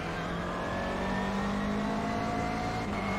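Global Rallycross race car engine in the iRacing sim, a steady droning engine roar with a whirring rise, held at constant loudness throughout, under game noise with no voice.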